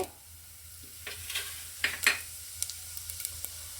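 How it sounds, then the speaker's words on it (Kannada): Mustard seeds and cumin sizzling in hot oil, a faint crackle with scattered small pops and spluttering ticks toward the end, quiet and without talk. "ಫಸ್ಟ್ ಎಣ್ಣೆ ಕಾಯಕ್ಕೆ ಇಟ್ಕೊಂಡಿದ್ದೀನಿ ಫಸ್ಟ್ಗೆ ಸಾಸಿವೆ ನೆಕ್ಸ್ಟು ಜೀರಿಗೆ"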